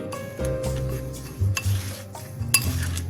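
Dry spices for chicken shami kebab being mixed in a bowl, with a few short clinks and scrapes of a utensil against the bowl amid low rustling, close and fairly quiet, no talk.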